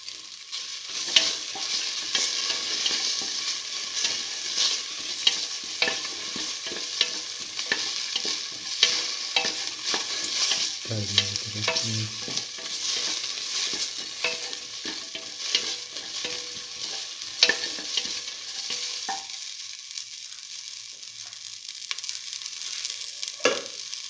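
Tomato pieces fry in hot oil in a pan, a continuous close sizzle broken by frequent scraping stirs, with a brief louder clatter midway and no talk.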